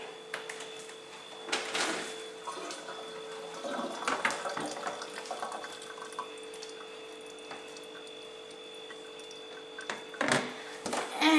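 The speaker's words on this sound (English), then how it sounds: "So I'm going to quickly strain them in the sink, because there's a little bit of water in the bottom of it" Boiled potatoes are strained in a kitchen sink, a rushing pour of water with splashes and drips over a steady hum, louder bursts near the start and end.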